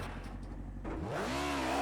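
A race car in Project Cars 2 accelerates hard, its transmission gear whine rising in pitch as a clear tonal sweep over the engine after a brief lull, close and loud, with no talk.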